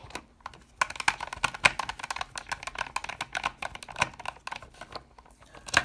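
Two screws whizzed quickly out of a plastic motor mount on a Tamiya TB-01 Subaru Impreza RC car, giving a rapid series of sharp ticking and clicking bursts, close and irregular, with no talking.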